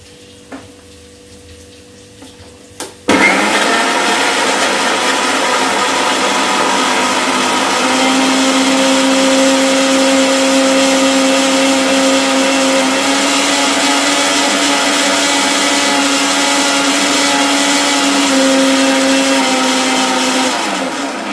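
Electric mixer grinder whirring steadily as it grinds green chillies, ginger, soaked cashews and poppy seeds into a paste, starting abruptly after a few quiet seconds and running loud and continuous to the end.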